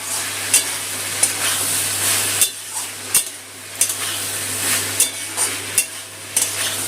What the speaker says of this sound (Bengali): সবজির সাথে ভাজা মাছটা একটু কষিয়ে নেব।